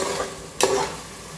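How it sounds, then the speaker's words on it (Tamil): A coarse ground tomato mixture sautéing in a pot for chicken biryani, a low steady sizzle broken by one sharp scrape of a stirring spoon midway, close and short. "இப்போ இது நல்லா வதங்கட்டும்."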